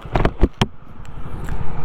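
A Hero Splendor Plus base model motorcycle engine idles nearby with a deep, bassy thrum, a few sharp clicks and knocks rising over the steady low rumble.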